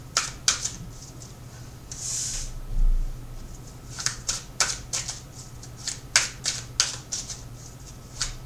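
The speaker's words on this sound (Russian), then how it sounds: "Давайте перетасуем карты." A deck of tarot cards is shuffled and handled up close, giving crisp irregular riffles and snaps in quick bursts with brief pauses between them.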